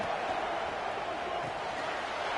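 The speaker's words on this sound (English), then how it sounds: "It's early, but this crowd is fired up. Listen to this noise here." A fired-up crowd fills a college football stadium at a Michigan State home game with a dense, unbroken roar that holds at a constant level throughout.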